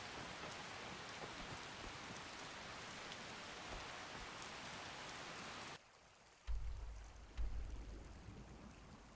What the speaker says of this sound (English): A little rain. This must be that beautiful Skyrim weather I've always heard